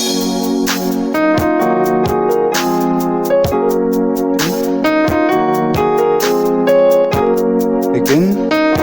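Piano playing a passing chord progression with the left hand moving through the 6, 7, 1 steps, rhythmic chords struck repeatedly and ringing out clearly, close and steady, without any voices.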